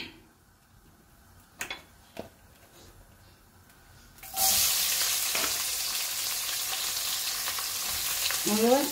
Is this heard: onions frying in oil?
yes